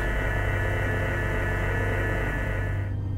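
Toy lightsaber with a crystal-color-dependent sound, giving a steady, buzzing electric hum that holds at even loudness for about three seconds before the upper tones cut off.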